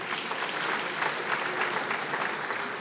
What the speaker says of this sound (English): Please clap for him again.